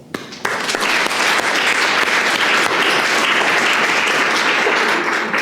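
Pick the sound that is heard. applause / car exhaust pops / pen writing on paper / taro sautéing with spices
applause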